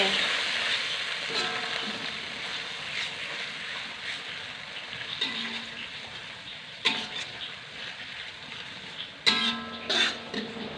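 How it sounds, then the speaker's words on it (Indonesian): Kembang turi bakso sizzles in a pan after water is added, with steady frying hiss and occasional scraping stirs and clinks, close by and without talk. "Sudah dimasukkan, lalu tambahkan air ya. Terus diaduk-aduk lagi."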